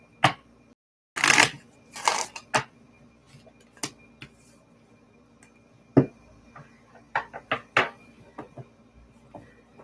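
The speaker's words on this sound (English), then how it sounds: "While you're doing that, I'm going to just start shuffling the cards." A deck of tarot-style reading cards being shuffled by hand in a quiet room, with short riffling bursts early on followed by sparse, crisp taps and clicks of cards scattered through the rest.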